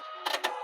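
A Husqvarna Viking sewing machine fitted with a clear seam guide foot stops, giving two quick close mechanical whirring bursts over a faint motor hum before going quiet.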